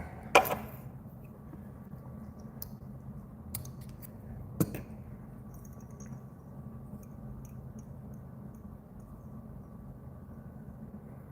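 Scissors trim material on a fly-tying bench for CDC mayfly patterns, giving a few sharp, quiet snips spread over the first five seconds against a faint steady hum.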